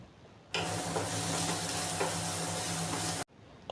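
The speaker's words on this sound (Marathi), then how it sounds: "इथे हे कांदा आणि टोमॅटो एक सोबत फ्राय करायचे" Onion and tomato frying in a pan with salt, a steady loud sizzle that starts abruptly and holds evenly for about three seconds before cutting off.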